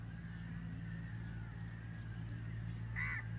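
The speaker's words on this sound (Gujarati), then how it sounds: "પક્ષીઓના કલરવને" Crows caw faintly in an outdoor setting, one short harsh call standing out near the end over a low, steady background hum.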